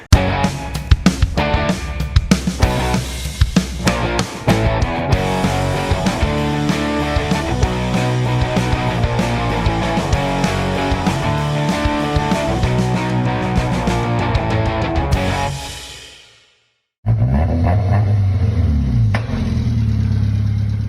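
An MG ZT car engine starts and runs loudly and steadily, cutting out briefly near the end before returning with revving.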